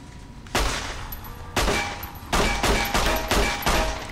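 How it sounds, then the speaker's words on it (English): Gunshots fired at a laser tripwire emitter in Fallout: New Vegas: about seven loud, sharp reports in an irregular sequence, each with a short echoing tail, close and with no talk over them. "I think I might be able to shoot that and it'll disarm it"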